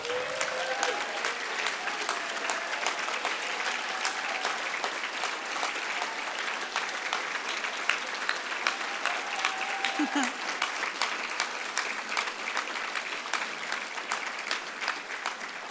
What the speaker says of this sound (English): everyone please give them an absolutely massive round of applause